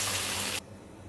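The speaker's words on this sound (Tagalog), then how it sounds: "Lagyan ko na ng tubig guys." Water poured into a pan on the stove to bring it to a boil, a loud steady rushing gush that stops abruptly, leaving quiet background hum.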